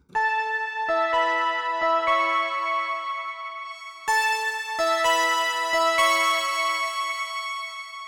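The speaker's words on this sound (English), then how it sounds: "I created a cool kind of bell sound using my OB6 analog keyboard through my Big Sky" Bright bell tones from an Oberheim OB6 analog keyboard run through a Strymon Big Sky reverb ring out in a slow chiming melody, each strike shimmering into a long sustained wash that stays loud throughout.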